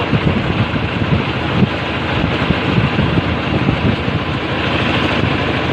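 Strong gushing water rushes loud and steady, a dense broadband roar that never lets up, with no voices over it.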